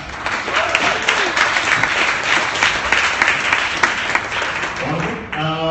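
Audience applause at a startup pitch night in a co-working space, steady dense clapping filling the room for about five seconds before tapering off as a voice begins at the end.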